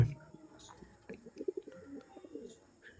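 Pilanka pigeon cooing in short soft bursts, a low rolling coo repeated several times at close range over faint background noise.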